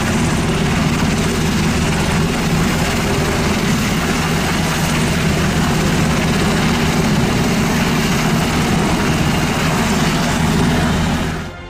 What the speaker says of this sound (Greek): Λίγο μετά τις 2 τα ξημερώματα επιστρατεύεται ελικόπτερο του λιμενικού και ξεκινά από αέρος η επιχείρηση διάσωσής τους.